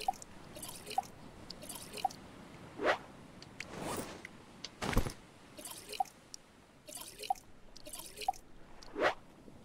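Water drips into a water skin in the survival game Stranded Deep, falling as small, fairly regular drops about once a second, with a few louder splashy plops standing out against a quiet background.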